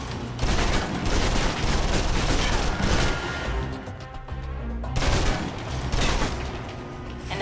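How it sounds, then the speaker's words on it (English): Submachine gun fire in the Xbox 360 game Alpha Protocol comes as rapid, dense bursts, loud and continuous. The shooting dips briefly in the middle, then a second sustained volley follows. "Now for your submachine guns. If you're trapped in close quarters with multiple opponents, the SMGs can help clear the room quickly. Not subtle or quiet"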